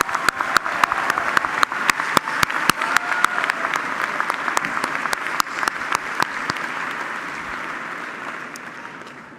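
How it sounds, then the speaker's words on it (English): A crowd in the bleachers at a college graduation ceremony breaks into strong, sustained applause, sharp individual claps over a dense wash that gradually fades toward the end. "I congratulate you and offer a special round of applause"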